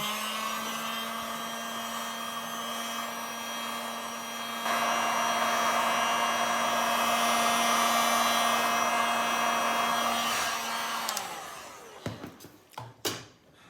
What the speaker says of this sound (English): Now I should probably hit this with a heat gun because it's kind of cold here